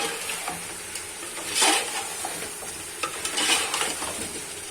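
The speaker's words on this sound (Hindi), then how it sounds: "अब इसमें आलू जाएंगे और आलू को भून लेंगे।" Potatoes and chicken kofta frying in a pot, a close sizzle with repeated stirring scrapes and a few swells of louder crackling, no talking.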